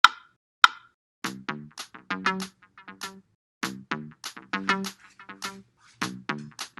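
A sparse synthesized melody of short plucky notes from an O-Generator step sequencer plays in an uneven stepping pattern, preceded by two sharp clicks, clear and alone.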